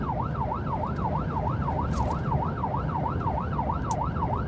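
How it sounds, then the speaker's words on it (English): An ambulance siren wails in a steady, rapid rising-and-falling cycle, loud and continuous over low road rumble, with a couple of brief sharp clicks. "Lights and sirens."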